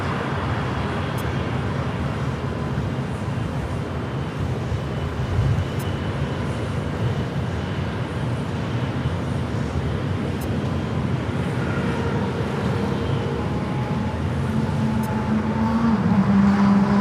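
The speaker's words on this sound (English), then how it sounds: "Next arrival on 24 right is Lufthansa 452," Lufthansa A380 arriving from Munich onto runway 24 right at LAX, heard as a steady, broad jet roar that holds at an even level throughout, with no voices.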